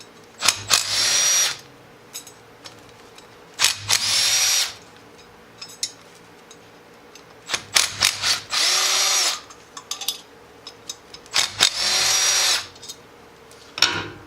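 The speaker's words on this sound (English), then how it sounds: "just evenly take these bolts out. One across from the other." A power tool spins out Torx bolts from a Can-Am X3 primary clutch, in several separate whirring bursts of a second or so each, with quiet handling and clicks between them.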